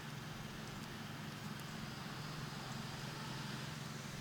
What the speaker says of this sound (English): Mosquito truck's coming.